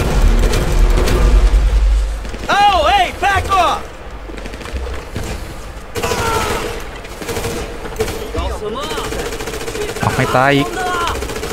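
Machine gun fire erupts in GTA V, rapid bursts of automatic shots with loud booming blasts mixed into game effects, while voices talk between and over the firing.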